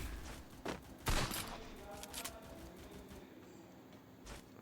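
Gunfire in the Free Fire MAX video game during a 4v4 ranked clash, with a few sharp shots and short bursts over steady game ambience, moderately loud and without speech.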